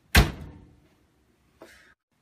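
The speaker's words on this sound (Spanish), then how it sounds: "Pon la pizza en el horno y cierra la puerta de horno." An oven door swung shut after a pizza goes in, one loud close thump at the start that rings out, then a fainter short clack about a second and a half later, no voices.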